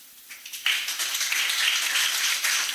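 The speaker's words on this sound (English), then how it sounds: "Let's applaud him." Clapping for a young speller at a spelling competition begins with a few scattered claps, then swells into steady, dense applause from a room full of people.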